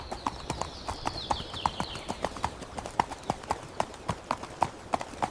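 Regular clip-clop of horse hooves from an AI-generated black horse in a desert setting, steady and fairly close, with a faint high whine in the background early on.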